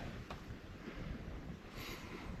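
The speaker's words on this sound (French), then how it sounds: "On a un petit vent juste correct." Soft, steady wind rushing outdoors at a campsite in Zec Rivière Blanche, Portneuf, a low broadband whoosh with mild buffeting and no other distinct sounds.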